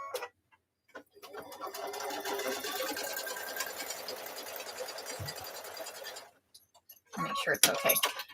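A sewing machine runs steadily for about five seconds, stitching a triple stitch on a fabric pot holder, then stops before a short burst of clinking handling noise. No one talks over the machine.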